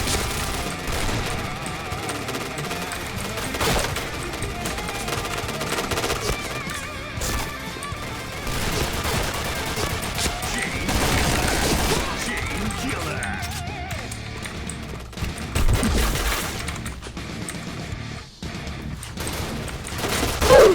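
Gunfire from the first-person shooter game SS3, a dense mix of shots and game effects running throughout, with speech in the background.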